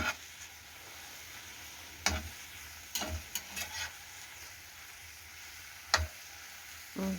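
Mushrooms frying in oil in a pan with onion on top, a soft steady sizzle broken by a few sharp stirring knocks and scrapes, quiet and close, no talk.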